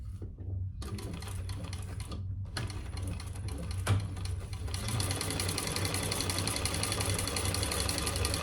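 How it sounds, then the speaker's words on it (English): A sewing machine top stitches a large crossbody sling bag. It starts with short, loud bursts of rapid mechanical clatter and then runs steadily and close for several seconds. No one speaks. "I'm gonna fold it over and top stitch"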